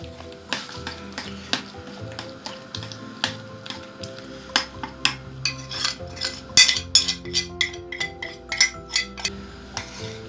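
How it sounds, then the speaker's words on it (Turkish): Dough for old-style Ohmaç soup is poured into water in a pot and stirred, giving a rhythmic series of sharp utensil clinks and knocks against the pot, growing busier toward the end. "Sonra bunu böyle suyun içine döküyoruz. Karıştırıyoruz."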